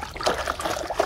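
Water trickles and splashes over a toy concrete mixer truck as it is rinsed, a short, soft, steady dribble close by.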